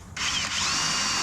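Power drill driving self-drilling screws into a 1953 Kenworth bus, a steady high whine that starts abruptly and holds for over a second, close and alone.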